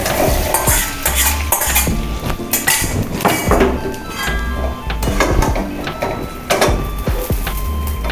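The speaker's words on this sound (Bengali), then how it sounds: "আলুটাকে আগে সিদ্ধ করে রেখেছিলাম দিয়ে একটু ভেজে নিলাম দিয়ে কষিয়ে নেব মশলার সাথে" Boiled potatoes tossed with spices in a pan: loud, close metallic scraping and clinking of a spatula against the pan with a light sizzle underneath, continuous and busy throughout.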